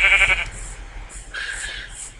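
A Minecraft sheep gives two short nasal bleats, the first louder and the second softer, heard alone in the game with only faint background sound.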